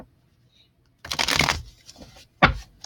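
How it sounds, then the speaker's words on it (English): Tarot cards being shuffled by hand, one riffling burst of about half a second followed by a shorter sharp shuffle, close and clear with near silence around them. "All right, 3 more shuffles and then we will spread them out and use them as clarifiers."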